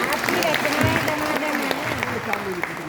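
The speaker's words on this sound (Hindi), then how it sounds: "एक बार जरा जोरदार तालियां बजा के।" Applause from the audience at a Hindi poetry gathering (kavi sammelan) at Bundelkhand University, Jhansi, a steady dense clapping with a voice and some tonal sound running faintly underneath.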